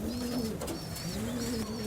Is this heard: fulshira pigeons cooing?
yes